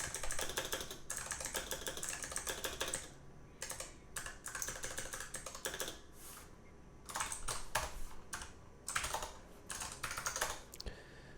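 Computer keyboard keys pressed in quick bursts while testing input for a simple C++ game window, with clustered clicks separated by brief pauses, close and fairly loud.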